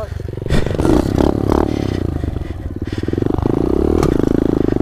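An SSR 125 motorcycle engine revs during wheelie practice, a close, rapid chugging pulse that climbs and steadies, with some clatter early on.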